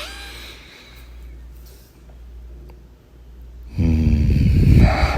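A deep breath released during guided breathing practice: a single close, heavy exhale with a rough, voiced rumble arrives after several near-silent seconds and fills the final second and a half.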